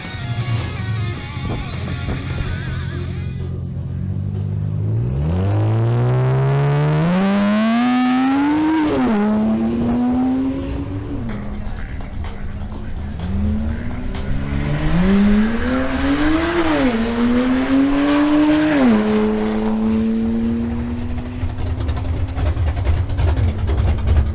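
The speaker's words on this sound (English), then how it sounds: "Next up is Francisco Lafori in his BMW 535i" A BMW 535i makes a drag racing run, its engine revving hard through rising gear pulls with shifts in between, loud and close throughout, with crowd and ambient noise beneath and no talk.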